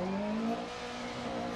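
A DiRT Rally rally car drives on a snowy stage, its engine droning steadily at mid revs with tire noise underneath and slight pitch shifts, heard fairly faintly.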